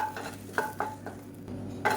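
Curry leaves fry in a pan as a spoon scrapes and stirs in quick, uneven strokes over a soft, steady sizzle, close and fairly loud, with no voices.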